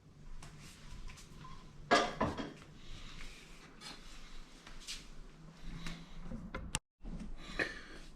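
Spatula scraping and smoothing a mayonnaise-dressed salad in a dish, soft intermittent scrapes and light clinks against the dish, quiet and close, with one sharper knock partway through.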